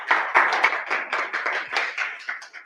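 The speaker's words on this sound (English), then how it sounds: "Let's give Rachel a quick round of applause" A small audience at a tech bootcamp talk in London claps briefly for a speaker, a sparse, uneven patter of hands rather than a full roar.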